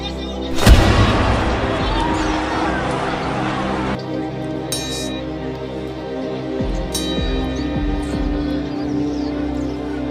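Body shots from Pacquiao landing in a boxing match: a sharp, loud thud near the start, then several lighter impacts against a steady crowd and arena din.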